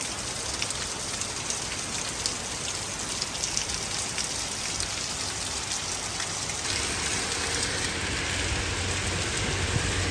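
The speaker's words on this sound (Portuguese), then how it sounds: "tá chovendo bastante aqui agora" Heavy rain pours steadily outdoors at a summer camp in the United States, a dense, continuous hiss of drops striking surfaces for the whole stretch, broadband and unbroken with no voices.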